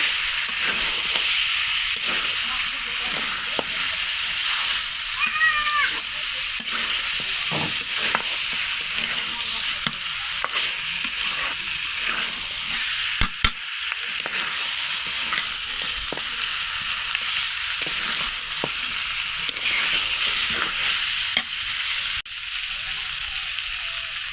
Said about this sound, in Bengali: মাংসটা খুব ভালোভাবে কষিয়ে নিয়েছি, ভাজা ভাজা করে নেব।